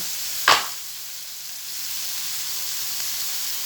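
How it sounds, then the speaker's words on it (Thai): Mixed vegetables stir-fry in a pan over high heat, opening with a sharp, loud sizzling burst that settles into a steady, softer hiss. "เปิดไฟแรงนะคะแล้วก็ผัด"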